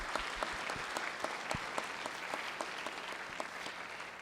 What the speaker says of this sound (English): If we can give her a round of applause.